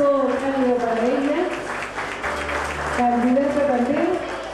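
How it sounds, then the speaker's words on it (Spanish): Audience applause for a teenage candidate at a presentation cocktail for the Reina de Piñas 2011 pageant, a sustained clapping wash running the whole time under an announcer's voice over a loudspeaker. "Y el mismo el aplauso cálido para ella"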